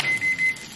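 A microwave oven set to 1,300 watts, running off a portable battery power station in the cold, gives three short even electronic beeps over a low steady hum.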